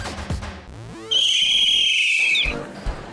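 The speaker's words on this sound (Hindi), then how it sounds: "सीटी बजाना क्या सिर्फ लड़के ही जानते हैं?" A whistle is blown once in a sustained shrill blast lasting over a second, loud and close, preceded and followed by brief rustling and low background noise.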